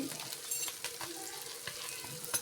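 Fish frying in a pan gives a steady, close sizzle, broken by soft scraping and stirring sounds and a few crackling pops.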